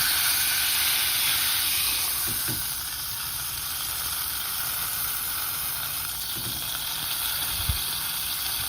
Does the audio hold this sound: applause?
no